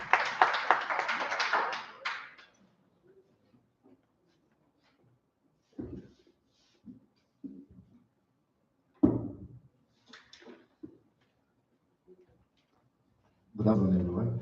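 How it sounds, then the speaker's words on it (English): An audience at a cyber security master class claps in a short burst of applause lasting about two seconds. Sparse taps and speech follow, and a second burst of clapping comes at the end. "Please let's give him a round of applause."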